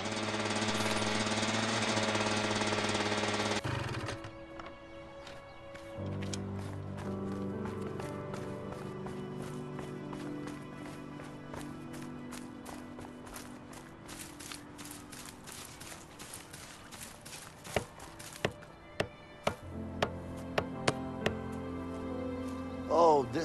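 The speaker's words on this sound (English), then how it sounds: "I think I'm gonna need a hammer." Hammering on a sign in the video game A Way Out: after loud game music, sharp metallic knocks ring out in an irregular run of strikes, growing denser toward the end over a quiet ambient background.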